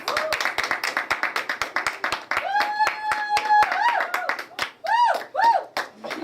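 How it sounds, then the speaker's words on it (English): An audience at a high school event claps in a steady, close rhythm as a speaker walks to the podium, with whoops and shouts rising over the beat midway. "give him a round of applause as he comes to the podium"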